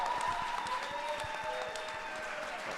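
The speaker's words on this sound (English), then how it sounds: "round of applause for Nowhere" A crowd claps for a contestant at the 2019 final pitch event: a dense, steady round of applause that holds at an even level for the whole stretch, with faint tonal sounds running beneath it.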